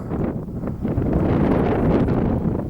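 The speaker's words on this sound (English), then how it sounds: "It's cold in that wind." Cold wind blows steadily across an exposed Scottish hillside on the path up Choinneachain, a loud continuous buffeting roar against the microphone that swells and gusts throughout with no voices.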